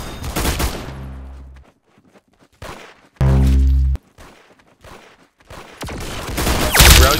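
Rapid bursts of gunfire from Roblox Arsenal, a video game, come as loud, close automatic volleys broken by brief gaps and single shots, with a sustained heavy burst in the middle.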